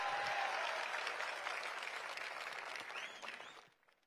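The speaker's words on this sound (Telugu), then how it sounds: "చేశారు అంటే గట్టిగా చప్పట్లు కూడా చెప్పండి చేశారని" A large crowd applauds loudly at a public ceremony handing appointment letters to police constables, a dense sustained clapping that holds steady and then fades out near the end.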